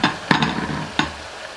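Carrot and potato pieces going into hot oil with sesame oil and chili flakes, giving a steady close sizzle broken by a few sharp clatters of a spatula or stirring.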